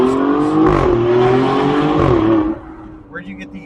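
An Alfa Romeo Stelvio Quadrifoglio with a twin-turbo V6 and Z-pipe exhaust pulls hard, its engine note rising loud and close through the gears with a brief dip, then tapering off as people talk.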